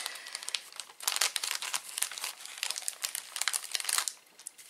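A paper gift envelope being opened and handled, with dense close crinkling and rustling in irregular bursts for several seconds, no talk.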